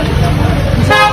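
Busy road traffic with vehicles passing and a car horn tooting near the end, voices faintly mixed into the street noise.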